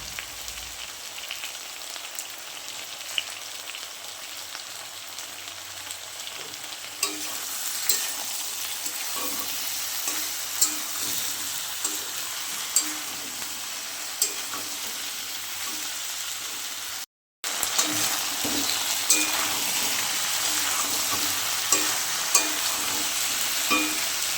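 Turmeric and chilli powder frying in a pan of oil, a steady sizzle with scattered stirring scrapes and ticks, one brief dropout near the end before the sizzle resumes, no voices.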